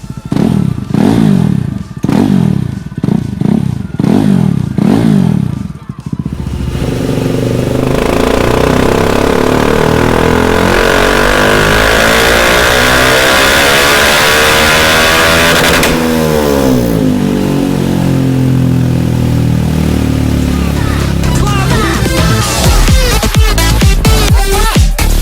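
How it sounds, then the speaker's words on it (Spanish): Motorcycle fitted with an Akrapovic full system exhaust, compared against a KTM RC 390 and Kawasaki Ninja 400, revving loudly: a run of sharp blips at first, then a long sustained rev that rises and falls, ending in crackling pops. "Así suena con un escape Akrapovic Full System."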